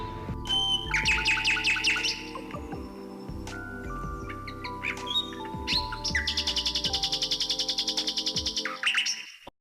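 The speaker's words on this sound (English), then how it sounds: "Nightingale, nightingale." Rapid, bright bird song attributed to a nightingale, with fast repeated chirps and trills in bursts and a long continuous pulsing trill near the end, loud and close over a steady low hum.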